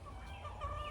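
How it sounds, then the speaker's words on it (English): Rooster on a small Pacific Northwest ranch giving a short clucking call, faint and brief over a low outdoor rumble. "our rooster sees something in the distance he doesn't like."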